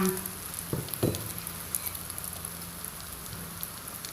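An egg fries in a pan with a steady, close crackling sizzle, marked by a couple of sharp clacks near the start before the spitting settles into an even hiss.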